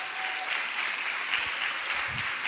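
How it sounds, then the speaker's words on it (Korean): A church congregation applauds to welcome a pastor to the pulpit, producing a brief, even burst of dense clapping that fills the room with no talking over it. "큰 박수로 환영해 주시기 바랍니다"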